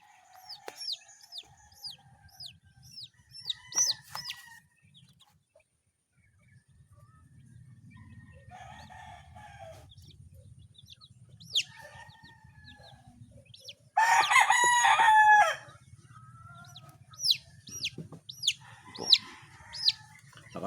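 Chickens with a brood of nine chicks cluck and peep in a poultry yard, high repeated chick cheeps scattered throughout, one loud rooster crow in the middle, clucks between.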